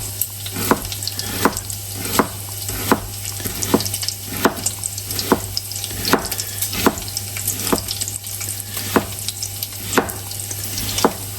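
Chorizo sizzles in a frying pan with a constant crackling hiss, steady and close, while a regular series of sharp clicks or taps repeats roughly every three-quarters of a second through the whole stretch, without any talk.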